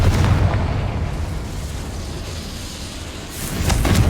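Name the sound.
Confringo explosion spell in the video game Hogwarts Legacy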